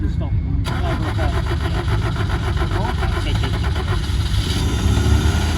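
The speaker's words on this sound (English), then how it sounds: "That engine sounds sweet though" A Corvette C5 engine with 86,000 miles runs steadily nearby with the choke pulled out, idling with a loud, continuous rumble and a rhythmic mechanical pulse, with muffled voices underneath.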